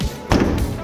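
A Hyundai Avante N's manual trunk lid swings shut with a single dull, close thud that rings out briefly. The moment before is quiet.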